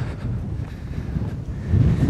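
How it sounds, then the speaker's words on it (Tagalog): Strong mountain wind on Mt. Gulugod Baboy buffets the microphone with a steady low roar, swelling louder near the end, with no one speaking. "Ang lakas ng hangin."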